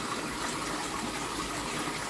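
Water gushes steadily out of a pipe into a fish pond, a continuous broadband rushing and splashing, close and even throughout with no voices.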